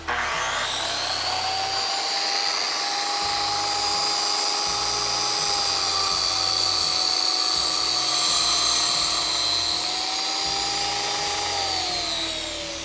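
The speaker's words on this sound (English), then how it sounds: "I'm gonna cut through 2 2x4s at once for those frame pieces" A power saw cutting through two 2x4 frame pieces at once for a cornhole board build, giving a loud, continuous high-pitched whine that holds steady for about thirteen seconds and dips slightly in pitch near the end.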